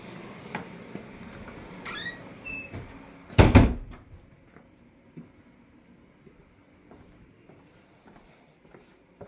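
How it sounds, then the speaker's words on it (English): A door swings shut with a short squeak and a firm closing thud, up close in a quiet house, followed by faint footsteps and light movement. "Oh, I shut the door."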